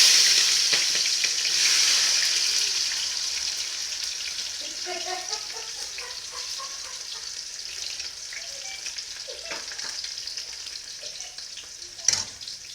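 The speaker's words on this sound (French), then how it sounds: "L'huile chauffe déjà beaucoup." Oil sizzles and crackles steadily in a saucepan while making a freshwater catfish broth, with a soft bubbling hiss and a brief clink of a utensil near the end.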